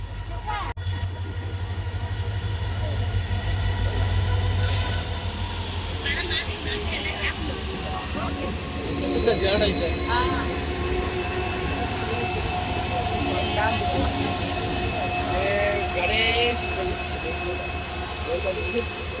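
A train running at night near Pamban bridge in Rameswaram, heard as a steady, close rolling rumble with high, sustained wheel-squeal tones and occasional clatter throughout.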